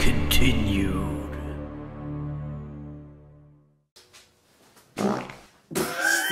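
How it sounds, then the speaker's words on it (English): A loud, drawn-out fart opens the sequence and trails off, followed by a quiet gap and then short bursts of noise, with no speech. "You're just farting."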